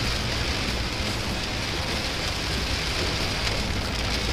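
Heavy rain pours down steadily during a family camping trip's descent from Gunung Bundar, a dense, unbroken roar of close, loud downpour with no voices.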